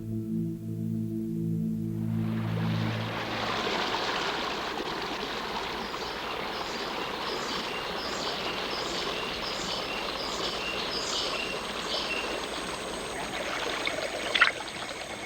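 River water flows steadily at a rainforest river's edge, a constant broadband rush that fades in after a brief musical opening and continues without talking.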